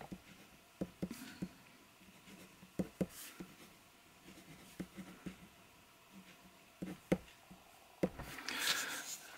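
A Parker fountain pen scratches across paper in short, irregular strokes and taps, quiet and close, with a brief louder rustle near the end.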